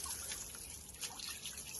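Water drips and trickles steadily during the washing of a tank, a continuous wet patter with soft splashes, fairly faint and with no one talking.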